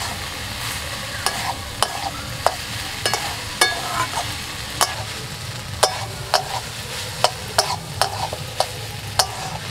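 Banana stem curry sautéing in a pan, a steady sizzle punctuated by sharp, fairly regular spatula clacks against the metal, close and loud, without speech.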